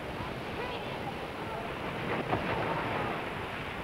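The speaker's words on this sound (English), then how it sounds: "The Pacific Ocean rolls along the wide east coast, washing a chain of golden beaches" Pacific Ocean surf rolls onto a golden beach on Australia's east coast, a steady broad wash of breaking waves with a slight swell midway, mixed with wind noise.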